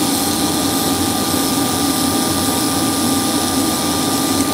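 A Pelikan fountain pen nib is ground on a coarse diamond wheel, a loud continuous whirring drone with a steady high whine and no breaks.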